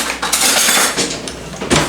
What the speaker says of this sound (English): Yeah, I'll do it with a big spoon.